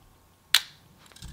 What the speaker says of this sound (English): here's the sound of the shutter.